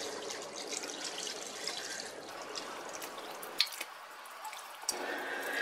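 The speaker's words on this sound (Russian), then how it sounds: "Добавляю сюда воду или бульон," Water or broth pours from a spout into a multicooker pot while making rassolnik pickle soup, a steady close splashing trickle with a few drips near the end.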